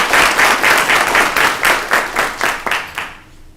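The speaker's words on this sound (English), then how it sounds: "Give them a round of applause." Round of applause from the audience at a student government senate meeting, a dense burst of many hands clapping that rolls steadily for a few seconds and then thins out and fades.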